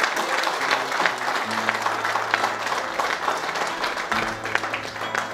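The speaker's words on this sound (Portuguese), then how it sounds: "Agora palmas vou pedir para o cantador da" Steady audience applause at a traditional cantoria song festival on Santa Maria island in the Azores, a dense, even wash of clapping with a sustained tone under it and little talk.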